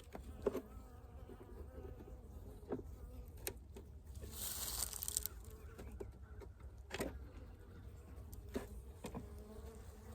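Honeybees drone in an opened hive during sugar-syrup feeding with a frame feeder, a low steady buzz close by with a few sharper clicks and knocks from frames being handled.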